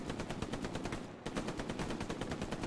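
A machine gun in the Hell Let Loose video game rattles off fast, evenly spaced shots in a long burst, pausing briefly midway before resuming, moderately distant and fairly quiet.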